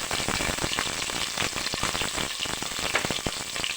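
Green chilies fry in a pan of hot oil for a Kerala thoran, giving a steady, dense sizzle with crackling pops scattered through it. No one speaks.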